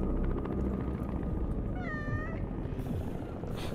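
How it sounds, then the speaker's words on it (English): A cat meows once in an SFM animated movie, a short rising and falling call heard clearly over a steady low rumble of background ambience. "Oh, it's a cat. Don't kill the cat."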